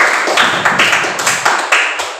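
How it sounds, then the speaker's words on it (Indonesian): A classroom group claps for group 4 in a rhythmic pattern, loud nearby hand claps in distinct pulses roughly every quarter second, a small group clapping in unison rather than scattered applause. "Oke, beri tepuk tangan untuk kelompok 4."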